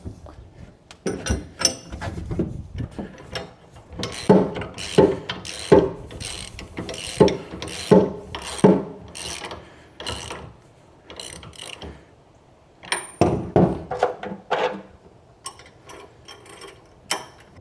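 Mechanical clicks and ratcheting metal snaps recur in bursts as a gooseneck hitch pin locks into a puck on a 2026 Ram 3500, close and fairly loud, with a brief quiet stretch before a final cluster of clicks.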